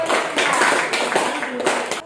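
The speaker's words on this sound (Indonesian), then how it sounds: "tepuk tangan untuk kelompok Johannes, Abraham, Mara." A classroom of students claps for a student group after their presentation in an Indonesian school lesson, a dense patter of hands lasting about two seconds at moderate loudness.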